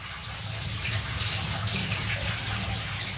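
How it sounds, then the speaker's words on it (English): Water pouring steadily into a big cauldron at a traditional heathland apiary during wax pressing, a continuous close rushing flow that holds the same level throughout, with no voices. "the big cauldron is refilled"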